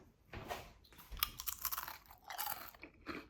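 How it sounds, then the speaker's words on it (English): Crisp, repeated crunches come from chewing thinly sliced homemade sweet potato chips close to the mic, in an irregular rhythm with no talking. "Hear that crunch?"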